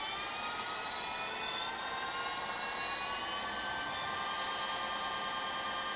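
An electric bike motor running with a newly fitted throttle gives a steady, high-pitched whine that holds at a constant pitch throughout, close and continuous with no talking.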